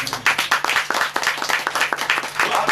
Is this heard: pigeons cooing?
no